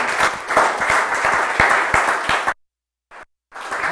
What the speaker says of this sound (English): everybody should give a round of applause for Dave here